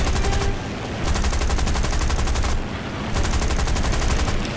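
Aircraft machine guns in War Thunder fire in long, loud, rapid bursts with two brief pauses between them.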